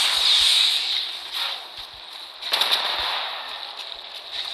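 Automatic gunfire in the mobile battle royale shooter Apex Legends Mobile, sustained bursts of rapid shots with a bright, hissing mid-high texture and a few sharper cracks, fairly loud with no talk.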